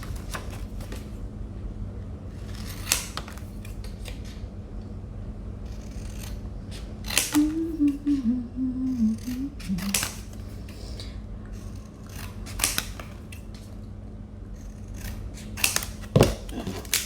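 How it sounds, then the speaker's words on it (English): Scissors trim paper reading-activity cards for a classroom box, giving sparse, crisp snips spread over a steady low background hum, close by and heard alone. "So trim up the cards."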